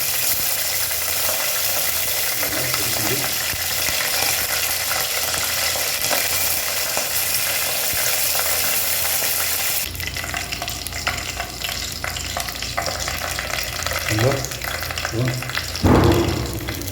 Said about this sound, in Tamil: ஸோ கருவேப்பிலை போடும்போது கொஞ்சம் தெரிக்கும், பார்த்து போடணும்.